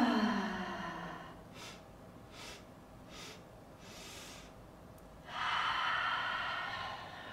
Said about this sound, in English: take a big breath in. You feel your belly fill with air and then breathe out